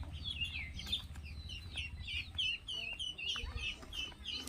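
Chickens near a rural chicken house keep up a busy run of clucks and short calls, close and fairly loud over a steady low outdoor rumble.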